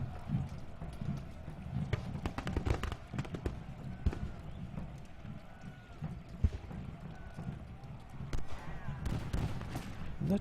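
Artillery fire on a Gettysburg battlefield in Ultimate General: Gettysburg, with muffled booms and scattered cracks rolling under a busy, rumbling soundscape of battle noise, none of it standing out much.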